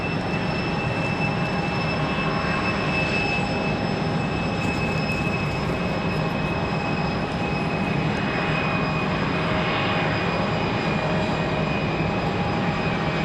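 An airliner flying past at Raleigh-Durham airport, a broad, steady engine roar with a high whistling whine on top, loud and close, swelling slightly partway through, no one speaking.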